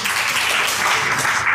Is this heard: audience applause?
yes